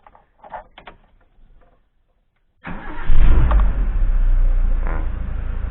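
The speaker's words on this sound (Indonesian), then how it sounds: "Sekarang saya hidupkan mesinnya." A Suzuki Jimny Katana engine cranks and starts after a few quiet moments, then settles into a loud, steady idle close by.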